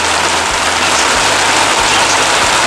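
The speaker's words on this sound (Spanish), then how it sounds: "Ya empezó a llover." Heavy rain beginning to fall outdoors, a loud, dense, steady wash of noise with low rumbling underneath that continues unbroken.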